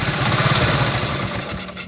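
A motorcycle engine, fitted with an anti-theft kill switch, runs steadily at a loud, even idle with a buzzing, chattering rumble throughout, no voices over it.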